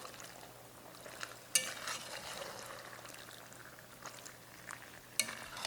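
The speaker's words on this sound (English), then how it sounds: "I'm just gonna mix this all up, add my liquid in here, my reserved pasta liquid." Pesto penne is stirred together with reserved pasta water, producing soft wet mixing and scraping sounds with a couple of sharper clinks, fairly quiet and close.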